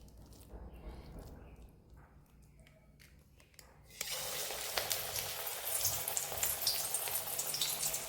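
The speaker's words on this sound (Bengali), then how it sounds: "তেলটা গরম হয়েছে, গরম হয়ে সিমে করে দিয়েছি। দিয়ে এবার বড়াগুলো" Spinach pakoras dropped into hot oil turned down to a simmer, quiet at first, then a sudden loud, dense sizzle and crackle that continues steadily, close by.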